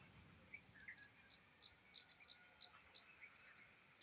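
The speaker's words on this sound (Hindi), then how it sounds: "सुनाई पड़ रहा है, चिड़िया बोल रही है।" Several small birds chirp outdoors in a quick series of thin, rising and falling tweets, moderately close over a faint background hiss, with no talking.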